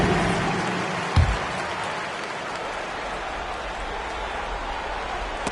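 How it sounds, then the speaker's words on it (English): A crowd in the basketball video game NBA 2K26 claps and cheers in a steady, wash-like roar of applause that fills the arena, with a brief louder burst early on. "Let's give him a big round of applause."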